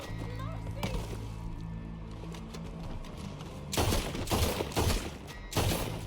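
Gunfire in Red Dead Redemption 2 as a character is shot: sharp, loud bursts cluster in the second half over a steady bed of game ambience and low background tones.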